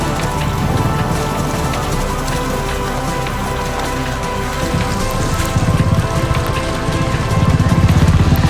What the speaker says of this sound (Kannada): ಮಳೆ ಬಂತು ಗೈಸ್, ನೆಕ್ಸ್ಟ್ ಲೆವೆಲ್ ಫುಲ್ ಒದ್ದೆ ಗೈಸ್.